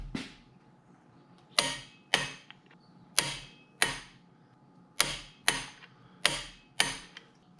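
A ratcheting torque wrench tightening main bolts on a Chevy 327 engine from a 1964 Impala station wagon, sharp rasping clicks in short bursts of two, loud and close with pauses between.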